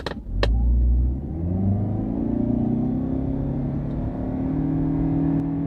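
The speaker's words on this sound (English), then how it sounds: "Not bad acceleration." A car accelerating hard in sports mode, the engine note climbing steadily in pitch and holding a loud, close drone inside the cabin without talking.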